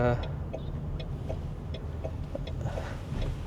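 Interior of a Mahindra BE XEV 9E electric car cruising on a highway: a steady, muffled low road and cabin hum with faint light ticks, and no engine note standing out.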